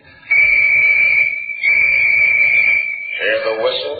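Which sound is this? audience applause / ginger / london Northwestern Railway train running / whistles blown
whistles blown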